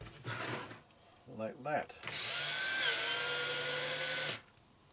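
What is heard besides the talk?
screwdriver driving a screw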